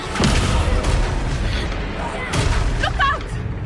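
The Descendo spell in Hogwarts Legacy strikes as booming, thudding impacts, a couple of heavy hits and rumbling bursts over the span, loud and close amid game noise, with voices speaking over it.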